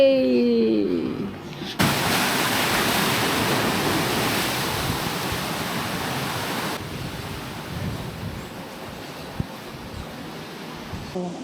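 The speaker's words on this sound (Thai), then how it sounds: "ตอนนี้เราแวบออกมานั่งเล่นริมทะเล" Sea waves wash steadily onto a beach at a seaside villa resort in Rayong, with gusty wind buffeting the microphone throughout; a brief voice is heard at the very start before the surf takes over.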